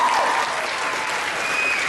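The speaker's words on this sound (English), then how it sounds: "you should genuinely applaud yourselves for that" A convention panel crowd at Dragon Con claps and cheers in a loud, dense, continuous burst, with a few whoops rising above the steady wash of hands.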